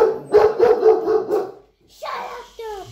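A dog barks in quick repeated bursts close by, followed by a couple of higher yips and whines, with people talking over it.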